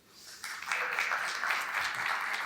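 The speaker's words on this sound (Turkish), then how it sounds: "Aburak Bey'e kocaman bir alkış." An audience at a business talk on AI breaks into applause after a presentation, rising quickly to a steady, moderately loud round of clapping.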